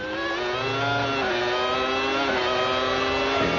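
A Formula 1 race car on the 1997 Luxembourg circuit screams loudly and close, its engine pitch dropping as it brakes, then climbing again as it accelerates through the gears, with no talk over it.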